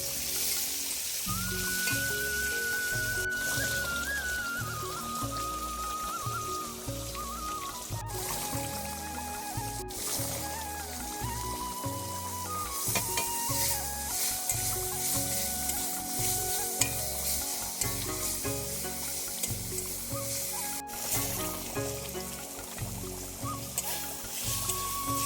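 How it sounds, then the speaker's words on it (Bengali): Mangoes for chutney frying in a kadai of hot oil with mustard seeds and dried chillies, giving a steady, loud sizzle with stirring scrapes throughout and no talking. "কড়াইতে তেল দিয়ে দিচ্ছি, সর্ষে আর শুকনো লঙ্কা দিয়ে আমগুলো দিয়ে দেব।"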